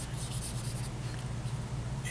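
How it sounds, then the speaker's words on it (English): Graphite pencil making light sketching strokes on paper while drawing a figure, a soft continuous scratchy rustle with faint bursts of friction, steady and close, with no voices. "we're going to grab a pencil"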